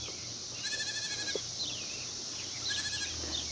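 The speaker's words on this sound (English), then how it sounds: "I think the goats are migrating." Several goats bleat while grazing a yard during a heat wave, wavering cries from a few animals rising above a soft outdoor background, some close and others farther off.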